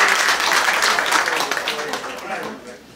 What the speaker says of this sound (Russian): Ну, давайте похлопаем.